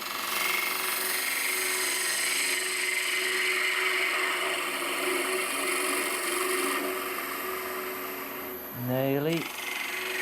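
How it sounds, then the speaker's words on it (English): Woodturning lathe cutting a natural-edge end-grain wooden vase with the tip of the tool, a continuous broadband whirring scrape that stays steady for several seconds, then rises briefly in pitch near the end. "Just cutting with the tip of the tool."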